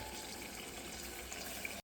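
Water pours into a pot of cooking dal in a steady, unbroken rush for about two seconds, fairly close, with no voices, then cuts off abruptly.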